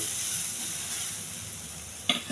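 Moong dal sizzles and crackles as it fries dry in a pan on a stovetop, a steady bright hiss with a short sharp burst of spattering near the end.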